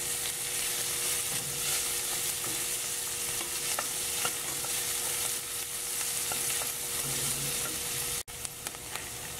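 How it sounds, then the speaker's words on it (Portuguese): Onion and garlic sautéing in olive oil, a steady close sizzle broken by small stirring scrapes throughout, with a brief dropout near the end before the frying resumes. "Coloquei a cebola e o alho, azeite. Agora tô dando uma refogada."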